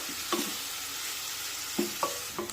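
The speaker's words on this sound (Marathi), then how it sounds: "हा कांदा हलकासा मऊ होईपर्यंत परतून घेऊया" Onion sautéing in a pan for besan bhurji, a soft continuous frying hiss broken by a few sharp spatula scrapes and taps against the pan.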